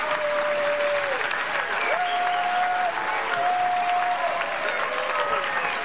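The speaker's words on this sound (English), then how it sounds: "Give yourselves a big clap, everyone." Sustained audience applause for children's animal dancing, a loud, even wash of clapping running throughout, with sustained voices or singing tones drifting over it.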